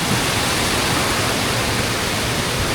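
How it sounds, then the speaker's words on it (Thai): The tiered cascades of Tad Kuang Si waterfall near Luang Prabang, Laos, give a loud, steady rushing roar of falling water, close and unbroken throughout, with no voices. "แต่ที่มีเป็นน้ำตกแบบ เป็นชั้นเล็กชั้นน้อยนะครับไต่ระดับขึ้นไปเรื่อยๆนะ"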